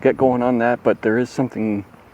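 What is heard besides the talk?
No distinct noise like a dog, phone or traffic.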